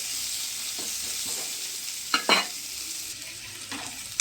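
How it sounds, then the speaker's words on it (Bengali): Onion and green chili fry in oil with salt, giving a steady, bright sizzle throughout, with a couple of brief stirring scrapes near the middle; no voices. "পেঁয়াজ আর কাঁচা লঙ্কাটা দিয়ে দেবো তেলের মধ্যে একটু নুন দেবো দিয়ে একটু ভেজে দেবো"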